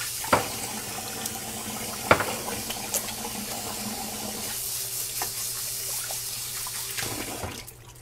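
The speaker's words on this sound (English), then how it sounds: "I'm gonna wash my hands" Tap water runs steadily into a kitchen sink during hand washing while preparing shrimp ceviche, a continuous faucet hiss with a few sharp clinks of dishes near the start.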